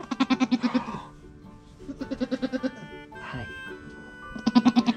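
A newborn baby goat on a farm bleats in quick wavering bursts, three loud trembling cries spaced about two seconds apart, close to the listener with a soft voice murmuring between them.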